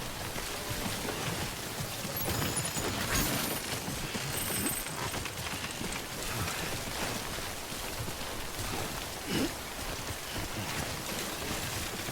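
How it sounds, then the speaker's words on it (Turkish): Rain falls steadily in the Death Stranding video game, a dense continuous patter with wind that stays loud and even for about twelve seconds, with no talking. "Oğlum niye her dışarı çıktığında yağmur yağıyor ya?"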